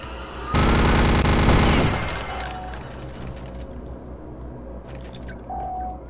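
Gunfire in the shooter game Return to Castle Wolfenstein, a loud sustained burst of rapid automatic shots lasting over a second, then fading into quieter ambient game sounds with a few faint clicks.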